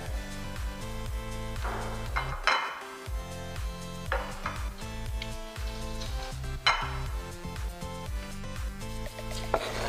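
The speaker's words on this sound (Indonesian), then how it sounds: "kemudian kita tumis sampai berbau harum" Sliced seasonings sautéed in hot oil for stir-fried broccoli and cauliflower, a steady close sizzle with periodic stirring scrapes of a utensil against the pan, set against faint background music.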